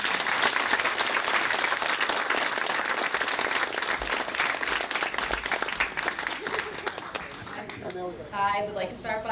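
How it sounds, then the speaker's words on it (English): Wedding reception guests applaud in a steady, dense round of clapping that carries on for several seconds before thinning out, with voices and cheering mixed in toward the end. "Give him a big round of applause, everybody, please"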